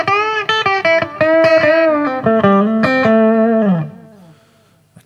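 Clean electric guitar on the bridge humbucker with a bright, biting tone, picked as a short melodic phrase of single notes and chords, then left ringing out and fading.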